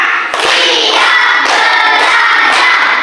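Group of children clapping their hands together in a classroom, a loud, dense burst of claps that swells in short counted rounds with brief pauses between.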